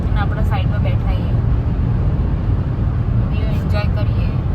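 A car is driven along a road, with a steady engine and tyre rumble filling the cabin throughout and voices talking over it at the start and end.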